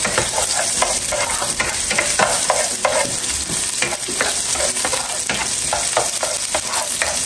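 Onions and garlic fry in a pan with a constant crackling sizzle, stirred repeatedly so scraping and spatula strokes come through up close.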